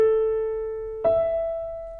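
Two sustained tones ring out one after another, a lower A held for a second and then a higher E a fifth above, clear and alone.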